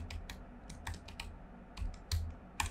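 Someone types on a computer keyboard in a quiet room, a close run of irregular key clicks and taps, some heavier keystrokes standing out near the end, with no talk.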